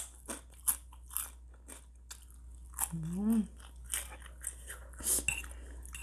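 Spicy crispy pork rinds being bitten and chewed up close, sharp crunches recurring through the clip, with a brief voiced sound in the middle.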